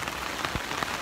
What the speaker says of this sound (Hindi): बारिश कम होने का नाम नहीं ले रही है.